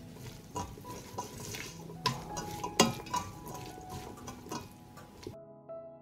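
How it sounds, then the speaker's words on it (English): A spoon stirs soup seasoned with pepper and salt in a pot, giving continuous close scraping and swishing with occasional light clinks against the metal. The stirring stops abruptly near the end. "I'll stir."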